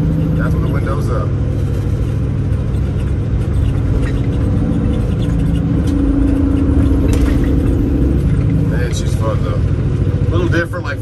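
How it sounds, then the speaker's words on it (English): Kenworth W900 truck engine running at about 1300 RPM in 18th gear, a deep loud rumble heard from the cab, with someone talking over it throughout. "And we're running about 1300 RPMs and over in 18th gear, so she's probably downshift there."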